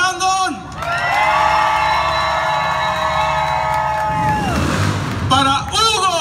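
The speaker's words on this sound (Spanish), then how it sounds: "El aplauso fuerte, fuerte para Brandon." Loud crowd cheering and whooping for an accordion player at a San Antonio fan fair accordion battle, continuous and close, mixed with a sustained musical tone and an announcer's voice at the start and end.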